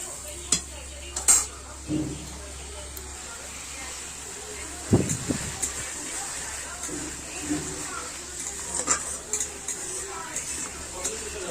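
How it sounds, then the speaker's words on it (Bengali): Spice paste frying and being stirred in a pan for a Bengali meat dish, with soft intermittent scraping and clinks of a spoon against the pot over a low sizzle, close by and fairly quiet. "এবার মশলাটা আমি ভালো করে কষিয়ে নেব।"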